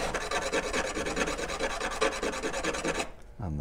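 Continuous rasping of sandpaper working the edges of a brass hand plane body, rounding them over; a steady scratchy stroke-by-stroke rhythm, close and loud, stopping abruptly near the end.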